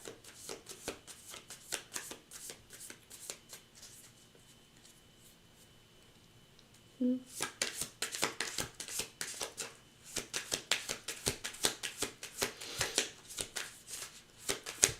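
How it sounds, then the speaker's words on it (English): Cards being shuffled in repeated bursts of quick riffling and flicking, close and crisp, with a quiet pause midway before shuffling resumes. "sure you guys are sick of hearing the shuffling"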